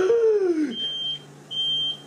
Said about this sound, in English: I don't know if you can hear me over the alarm. Because my pressure cooker on it goes off.